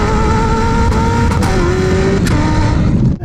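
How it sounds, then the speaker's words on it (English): A hypercar engine roars at high revs with steady harmonic drone, punctuated by several sharp, gunshot-like bangs on each gear change, loud and close. "It's like a gun going off when you change gears."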